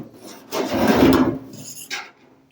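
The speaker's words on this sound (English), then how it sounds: "I may just scrape the rest of this off because it's going a lot faster than using the grinder" A broken razor blade scrapes paint off the body of a 1965 Mustang in a short, close, rasping stroke lasting about a second, with a brief second scrape just after.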